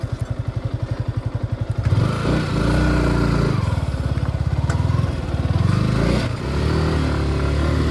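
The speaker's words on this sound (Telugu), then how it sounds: "యాక్సిలరేషన్ ఇచ్చినా ఎక్కలేదు పైకి" A motorcycle engine thumps rhythmically at low revs, then roars up under heavy throttle as the bike strains and fails to climb a rocky uphill slope, staying loud and close with fluctuating revs.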